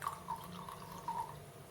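Household vinegar trickles into a jar of hot water, a faint, steady liquid dribble with a few brighter splashy drips over under two seconds, no voices.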